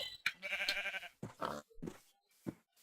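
Several sheep bleats from the video game Minecraft, a wavering bleat followed by shorter calls, close and clear with no talk over them.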